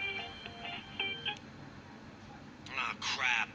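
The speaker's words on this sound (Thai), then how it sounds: "โทรศัพท์ดังอ่ะ" A phone rings in the mobile game Gangstar: New Orleans, with a series of short electronic tones early on and then a louder burst of trilling rings near the end, over quiet game background noise.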